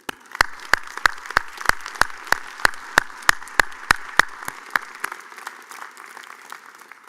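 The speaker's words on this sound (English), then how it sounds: "join me in applauding and thanking all of your family and friends who are here" Audience at the 2016 UB School of Law commencement ceremony applauds, with crisp, evenly spaced close claps standing out over a softer wash of crowd clapping that thins toward the end.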